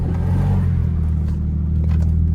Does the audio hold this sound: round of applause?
no